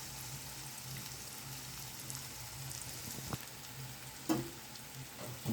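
Onion, green chili and curry leaves sauté in a pan for samba rava upma, giving a faint, steady sizzle with a few soft clicks and scrapes near the end.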